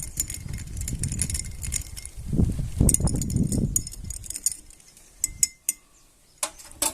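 A spoon stirs black salt into hibiscus flower sherbet in a glass or vessel, making a low swirling rumble followed by several close, bright clinks of metal against glass.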